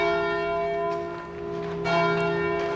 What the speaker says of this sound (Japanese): この鐘はもしかしたらアンゲルス、晩鐘かもしれませんね。